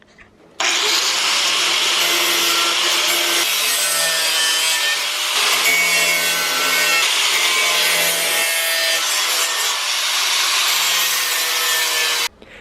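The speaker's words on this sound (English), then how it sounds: "now we're going through and grinding down all the rivets so they're easier to go in fiberglass and bondo over" Grinding down rivets on Miata hood louvers: a loud, continuous abrasive grind runs for about twelve seconds, shifting pitch slightly as pressure changes, then cuts off sharply.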